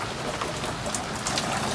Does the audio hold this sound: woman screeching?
no